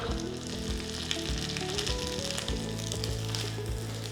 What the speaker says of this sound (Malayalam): തേങ്ങ ഒന്ന് മൂത്ത് വരണം, ബ്രൗൺ കളറാവണം.